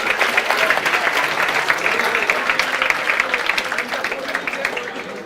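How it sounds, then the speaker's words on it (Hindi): A class gives a round of applause for 212 students. Steady, full clapping from many hands fills the whole stretch at constant loudness. "212 बच्चों के लिए एक बार जोरदार तालियां।"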